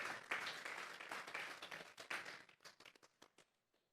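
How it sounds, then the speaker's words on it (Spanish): A church congregation at a Sunday service claps together in praise, a dense burst that quickly breaks into scattered, fading individual claps and dies out within seconds. "Vamos a darle una ofrenda de palmas a Dios en esta hora."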